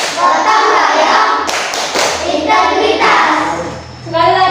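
A group does the rhythmic Tepuk PPK clapping routine in a classroom, loud close hand claps and thumps in patterned bursts mixed with children's chanting voices.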